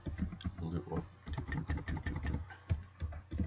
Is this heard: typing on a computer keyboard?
yes